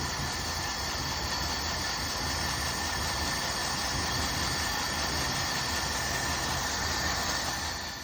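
A 1972 Chevy C10 pickup engine running rough with an acorn-clogged muffler, a steady broadband rumble and hiss that holds evenly at close range for the whole stretch, with no talk.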